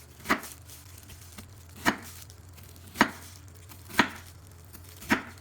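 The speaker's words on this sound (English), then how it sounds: "You put it on a cutting board, then cut it into bite-sized pieces." Knife slicing fruit into bite-sized pieces on a cutting board, five crisp, evenly spaced chops about a second apart, close and clear against a quiet background.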